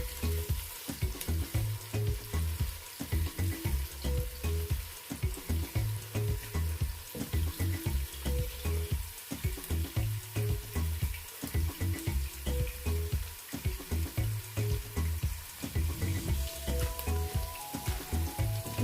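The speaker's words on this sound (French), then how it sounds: "dans ma marmite, j'ai mon oignon découpé. Donc, je vais blanchir mon oignon pendant environ 1 minute" Chopped onion frying in a cooking pot, a loud continuous sizzle and bubbling close by, with repeated pulsing stirring scrapes throughout and no speech.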